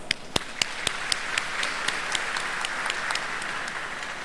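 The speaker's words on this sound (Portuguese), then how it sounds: "Aplausos." Audience applause greets a guest, a soybean seed producers' association representative, at a Brazilian agricultural TV event: dense steady clapping with several sharp, loud individual claps standing out near the start, continuing evenly throughout.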